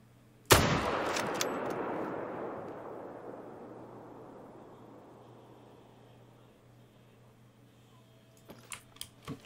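A single rifle shot fired at a reindeer in theHunter: Call of the Wild, set in the snowy Medved Taiga reserve: one sharp loud crack followed by a long echoing decay lasting several seconds, then a few faint clicks near the end.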